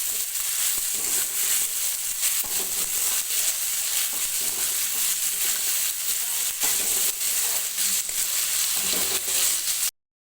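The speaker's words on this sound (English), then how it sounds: "so I am going to put onion. We are going to stir it." Onion frying in hot oil in a pan while being stirred: a steady, loud sizzle with scraping stir strokes throughout, close up, no talking.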